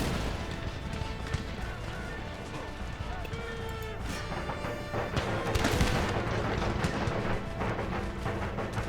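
Cannon volleys boom repeatedly in a battle of the strategy game Empire Total War, dense, loud and layered over a constant din of gunfire and battlefield noise.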